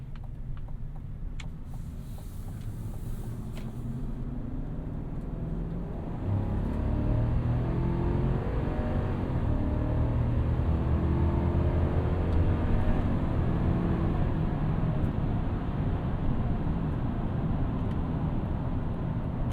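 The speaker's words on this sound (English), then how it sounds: "acceleration is no issue, even in a truck as big as this." A 2022 Chevrolet Silverado 1500 ZR2 with a 6.2-litre V8 accelerates up a ramp in automatic mode, heard from inside the cab: a deep engine rumble that swells and builds steadily, then holds strong, with no talking.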